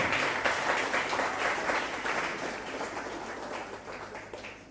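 A church congregation at a Sunday evangelical revival service in Locodjro applauds steadily, a broad wash of many hands clapping that gradually tapers off, with no speech over it.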